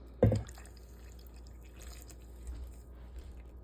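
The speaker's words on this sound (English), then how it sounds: "I poured the butter in, and next we're doing the almond milk." Almond milk poured into a bowl of gluten-free vegan cornbread batter, a brief close splash at the start followed by faint liquid trickles and drips in a quiet room.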